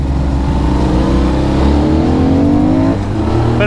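A Benelli Leoncino motorcycle, 500 or 800, accelerates with a loud, close engine note that climbs steadily in pitch through the gears, with wind rush underneath.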